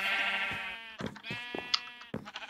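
Minecraft sheep on a survival-world sheep farm bleat several times in a row, loud and close, each call a wavering nasal baa with short gaps between and no voices.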